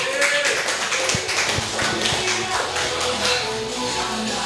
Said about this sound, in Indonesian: kita sambut tepuk tangan untuk Fai.